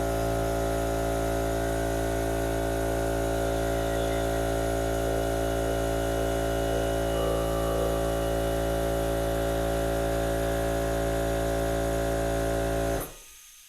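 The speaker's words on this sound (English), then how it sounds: "Air compressor works perfectly fine with it." A small air compressor runs steadily off a portable solar power station, a loud continuous electric motor hum with a droning buzz that holds constant for about thirteen seconds before cutting off abruptly.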